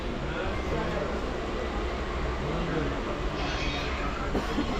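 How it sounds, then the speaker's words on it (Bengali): A local train halted at a rural railway station, with a steady broadband rumble of idling rail machinery and ambient platform noise holding loud and constant throughout, no clear movement or wheel clatter. "ট্রেন এখন বেলদা স্টেশনে দাঁড়িয়ে আছে"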